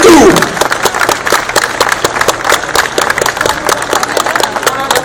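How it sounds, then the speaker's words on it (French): A roadside crowd at a cycling stage finish applauds the winner and race leader Giacomo Nizzolo, with loud, dense, crisp claps continuing steadily for several seconds after a brief vocal sound at the start. "Je vous demande de l'encourager et de l'applaudir"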